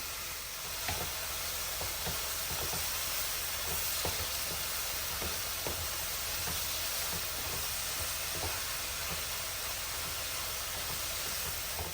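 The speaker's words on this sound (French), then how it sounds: "Une fois que j'ai bien fait saisir mes champignons" Mushrooms sear in a hot pan for a chicken forestière sauce, a steady close sizzle and hiss with faint scattered stirring taps, no voices.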